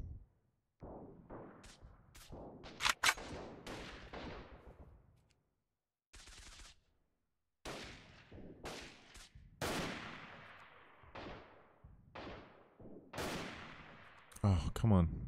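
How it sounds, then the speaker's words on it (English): Gunfire in the Freeman: Guerrilla Warfare video game during a large troop battle, with many separate sharp shots and short bursts spread across the clip, some loud and close, others fainter, with quiet gaps between them. "how are you shooting me from that range?"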